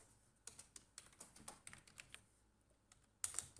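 Irregular bursts of keystrokes come from a computer keyboard, near but fairly quiet, with short pauses between them and a sharper cluster of clicks toward the end.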